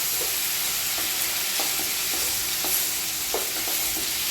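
Chopped tomato dropped into hot oil tempering in a pan for North Karnataka kachcha avalakki, sizzling and frying steadily throughout with a few soft clinks of stirring, close and alone with no talk.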